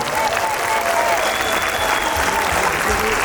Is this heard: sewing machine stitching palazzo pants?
no